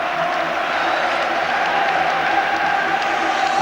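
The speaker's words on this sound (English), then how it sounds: "applauding the Rangers fans." Football crowd at a Rangers home match against Kilmarnock, applauding in a broad, steady wash of clapping with general crowd noise, distant and continuous.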